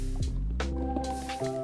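Minecraft water, the blocky video-game kind, flowing and sloshing in short wet squishing and dripping gurgles, close and steady, with no talk over it.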